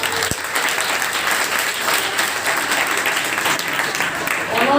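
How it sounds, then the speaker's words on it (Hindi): Loud, sustained applause from an audience at a school farewell ceremony, dense clapping that holds steady for several seconds, with faint voices mixed in beneath it. "आपके जो शत्रुघ्न सर हैं उनके लिए जोरदार दिल से तालियां चाहिए।"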